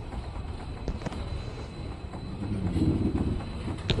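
A train with LHB coaches, bound from Jaipur to Mysore, rumbles past near Pandavapura station, a steady loud roar of rolling wagons that swells toward the end, with no voices.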